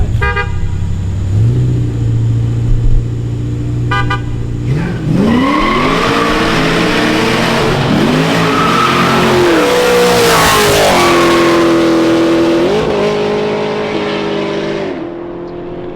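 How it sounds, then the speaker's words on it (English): A BMW X4 M and a BMW 340i race on a city street. Loud engines rev and climb in rising sweeps, with short horn toots and a steady roar that carries close by. "Man, that goddamn black car so goddamn fast."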